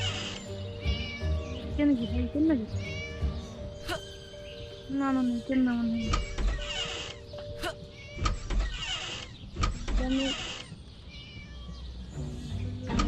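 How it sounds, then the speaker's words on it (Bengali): Cats meow repeatedly in the Scary Teacher 3D mobile game, short pitched cries rising and falling among game effects and clicks, while someone talks over the gameplay. "ম্যাও ম্যাও করেছি"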